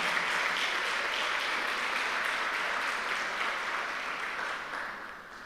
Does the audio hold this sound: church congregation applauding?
yes